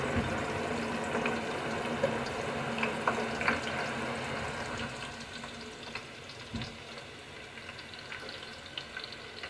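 Five sliced onions frying in hot oil, a constant close sizzle with occasional soft clinks and stirring scrapes over the bubbling.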